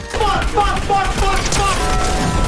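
Gunfire in Fortnite crackles in rapid overlapping bursts across the whole stretch, dense and loud, layered with game effects and a voice speaking over the shooting.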